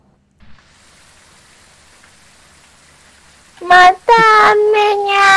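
Rain falls in the Phasmophobia ghost-hunting game as a faint, steady hiss that continues in the background, and a voice speaks over it near the end.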